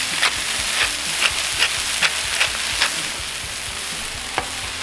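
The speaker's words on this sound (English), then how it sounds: "Now while those are searing away" Smash burger patties sear on a hot griddle with a loud, steady sizzle, punctuated by regular sharp scraping clicks of a spatula against the flat-top, no talking.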